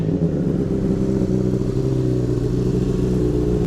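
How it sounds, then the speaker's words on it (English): Honda CBR motorcycle engine with a Two Brothers aftermarket exhaust idling after a cold start, a steady, close, throaty low rumble that holds even and loud throughout with no talking. "Got a really nice Two Brothers exhaust that sounds really good actually."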